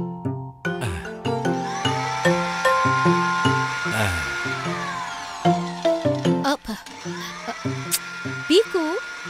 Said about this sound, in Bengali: হ্যাঁ, মিক্সারের আওয়াজ।